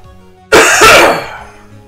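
A single loud, close cough bursts out sharply, then trails off over about a second, with no talk over it.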